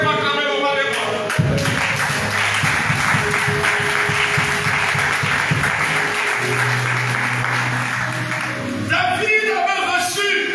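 A church congregation applauding and cheering together for about ten seconds, a steady dense wash of clapping with a rhythmic thumping undertone, ending with a few voices and scattered claps.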